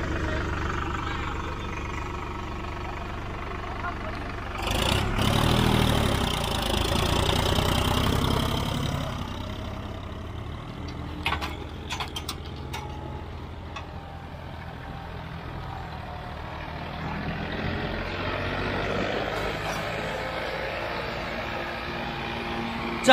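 A Solis 5015 tractor running in second gear, its engine a steady mid-pitched drone with a brief louder swell partway through, heard at moderate distance with no speech.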